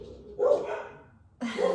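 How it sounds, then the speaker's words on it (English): Dogs in a home barking at something in the yard: two loud, close barks separated by a short pause, with no talk. "the dogs are in overprotective mode, so the wind might have blown, squirrel might have passed gas in the yard, and we are on full-on bark"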